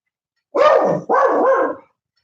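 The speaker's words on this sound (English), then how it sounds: "I think he's barking now because he can." A dog barks twice, loud and close, two sustained woofs in quick succession, then silence; the dog wears bells.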